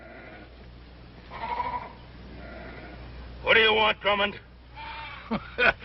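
Sheep bleat repeatedly at a ranch in an old Western, several wavering calls spread through the scene, moderately loud, with a voice speaking among them.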